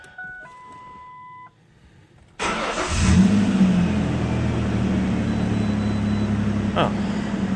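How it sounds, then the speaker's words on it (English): After a few dashboard chimes and a quiet pause, a Ford Ranger pickup's engine cranks and catches with a loud burst, revving briefly before settling into a steady close idle. "so now I'll start it up, see if our check engine light went away"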